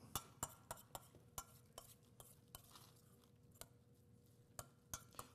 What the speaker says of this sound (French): Tout ce que je fais, c'est mélanger légèrement.